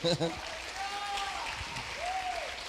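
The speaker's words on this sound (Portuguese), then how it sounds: "Dê um aplauso aí." Applause from a church congregation in a cathedral service, a steady wash of clapping with voices and a sung or spoken tone rising over it.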